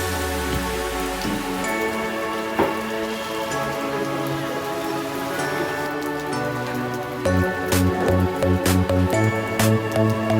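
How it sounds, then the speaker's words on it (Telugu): Rain falls outdoors in a steady patter, and heavier drops tap and spatter on nearby surfaces, growing louder toward the end. "వర్షం పడుతుంది కూడా."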